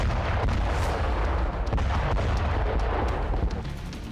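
A Russian military strike in a deserted area of eastern Ukraine, throwing up fire and black smoke, produces a loud, sustained rumbling roar with scattered sharp cracks and booms that persist for several seconds, with no voices.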